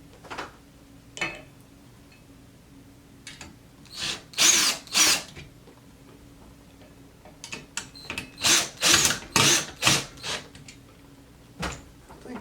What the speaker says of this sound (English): I'm going to loosen these bolts.